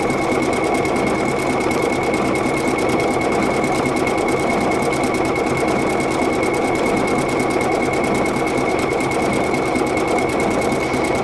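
A Pfaff Creative Icon sewing machine stitching a patch on, running at a steady rapid rhythm with a constant mechanical whir and fast needle ticking, close and uninterrupted for the whole stretch.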